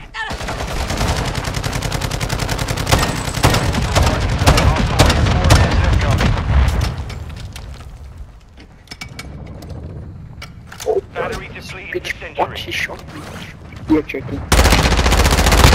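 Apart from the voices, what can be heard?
gunfire from Call of Duty video game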